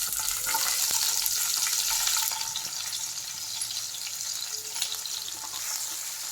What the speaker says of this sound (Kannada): ಹಾಕ್ಕೊಂಡು ಇದು ಸ್ವಲ್ಪ ಗೋಲ್ಡನ್ ಬ್ರೌನ್ ಆಗೋವರೆಗೂ ಫ್ರೈ ಮಾಡ್ಕೋಬೇಕು.